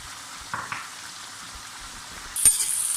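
Chicken coated in yogurt, red chilli and salt achari masala cooks over high heat with a soft, steady sizzle, a couple of faint stirring knocks, and a louder burst of hissing near the end.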